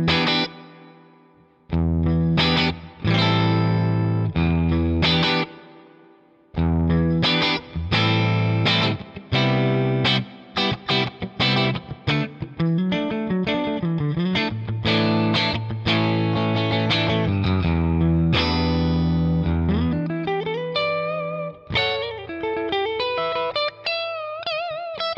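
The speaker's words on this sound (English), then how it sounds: "Very impressed with that plate reverb in there." Electric guitar played through a HoTone Ampero II Stage multi-effects unit set to mode C plate reverb, loud chords and single-note runs with lush reverb tails ringing out between phrases, no talking.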